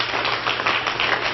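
Conference audience applauding, a dense burst of many hands clapping that fills the whole short stretch at a steady level.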